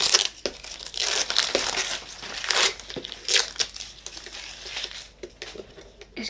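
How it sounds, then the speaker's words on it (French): Paper drawing being torn apart and crumpled, a close run of ripping and crinkling bursts that rise and fall over several seconds with no talk. "Je peux le déchirer ?"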